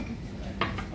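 Utensils clink and scrape against a bowl while bibimbap of rice, meat, vegetables and egg is mixed at a restaurant, a short burst of close metallic contact over soft background chatter.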